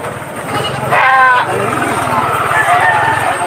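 Goats at a native livestock market in Padre Garcia, Batangas, with a short bleat or two rising over a steady engine drone and nearby chatter, voices talking throughout.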